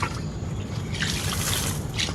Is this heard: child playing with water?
yes